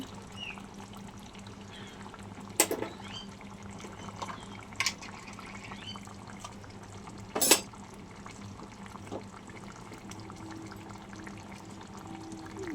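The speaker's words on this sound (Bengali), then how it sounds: "আমি একটু ঘি দিয়ে দেবো" Ghee poured into a simmering prawn malai curry, a soft liquid pour under steady cooking hiss, broken by a few sharp metallic clinks of a spoon against the pot, no talk.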